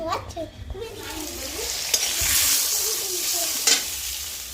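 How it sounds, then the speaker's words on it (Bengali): Greens sizzle loudly in a pan with garlic, torn green chili and five-spice tempering, a steady frying hiss with stirring scrapes close by and faint voices in the background. "শাকে দিচ্ছি হচ্ছে রসুন কাঁচা লঙ্কা ছিঁড়ে দিয়েছি আর পাঁচ ফোড়ন ফোড়ন করে দিলাম"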